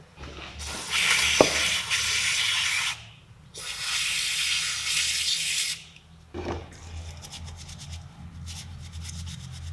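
Aerosol cleaner sprayed onto Volvo V50 ECU wiring connectors in bursts: two long, loud hissing blasts of about two and three seconds each, then a sharp click and a short rattling hiss.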